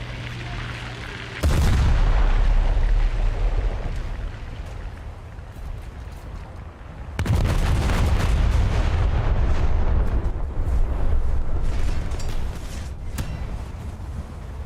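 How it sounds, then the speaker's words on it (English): Full salvo of warship guns firing in a naval video game, two heavy booming bursts several seconds apart, each loud and sustained with rumbling decay, no talk over them. "I just unleashed a full salvo against an AI crim"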